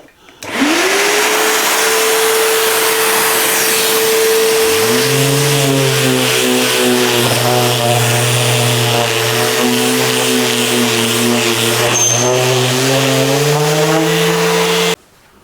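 A loud Bosch sander whine starts, then a second lower drone joins as a V-Tuf Mighty XL M-class dust extraction vacuum kicks in; both run together steadily before stopping.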